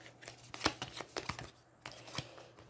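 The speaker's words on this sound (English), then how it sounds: "Give that another little quick shuffle." A deck of cards for the Aeons End board game gets a quick shuffle, faint close riffling and soft snapping bursts against a quiet background.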